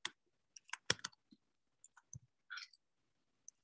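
Sparse clicks of a computer keyboard while equations are typed, arriving in short irregular bursts with quiet gaps and one brief pause before a final single tap.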